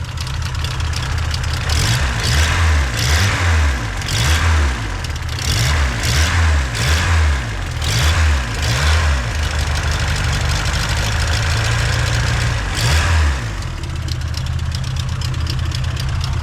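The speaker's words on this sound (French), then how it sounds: "à chaque fois il y a des bruits en plus sur ce moteur" A 1.3-litre turbo Golf 2 engine idles roughly with rhythmic knocking and clattering, repeating pulses over a steady rumble, loud and close throughout.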